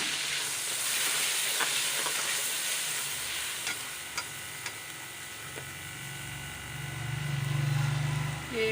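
Onion paste frying in oil over garlic-ginger paste, a steady broadband sizzle with occasional sharper pops, close and continuous, a deeper rumble swelling near the end.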